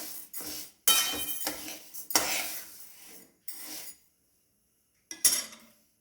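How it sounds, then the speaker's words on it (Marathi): Urad dal being lightly roasted in a pan, stirred and scraped so it rattles: bursts of dry, gritty rustling and metallic scraping, with short pauses between them and one final brief scrape. "आता उडीद डाळ हलके भाजून घेऊया."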